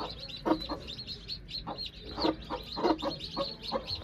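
Aseel chicks and hens cluck in quick, scattered bursts with soft chirps, fairly close and steady over a low background hum, with no talk.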